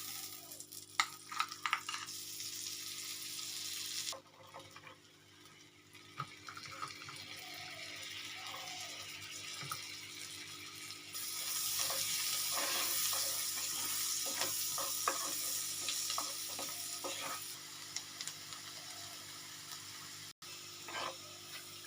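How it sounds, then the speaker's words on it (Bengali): Garlic frying in butter in a pan for butter kali mirch chicken, a soft continuous sizzle that swells louder midway, with occasional light stirring clinks and no speech. "এবার আমি বাটার দিয়ে গার্লিকটাকে হালকা গোলাপি হওয়া পর্যন্ত ভাজবো।"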